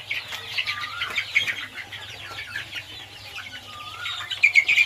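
Local free-range chickens cluck and chirp together at a poultry farm in Abhayapuri, Bongaigaon, Assam, with a continuous busy chatter of many birds over a low steady hum and no speech.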